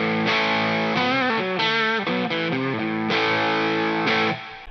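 Electric guitar played through a dual overdrive pedal set for a clean boost, a short run of bright, sustained notes and chords ringing loud and alone before fading out.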